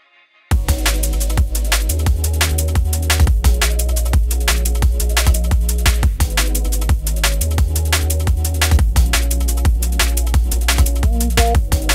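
An excerpt of a song comes in after a brief silence: a laid-back, soulful beat with steady, evenly spaced percussion hits over a warm, sustained bass. It plays loud and continuous with no voice over it.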